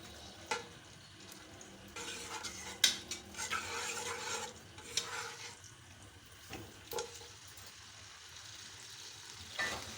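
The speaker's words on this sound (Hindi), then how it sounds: "अब इसमें मैंने जो गोश्त को पहले से गला लिया है ये डालूंगी" Pre-cooked mutton stirred into a pot for Sindhi biryani, giving a faint, close sizzle with soft scraping and clinking of a spoon against the pot in uneven bursts.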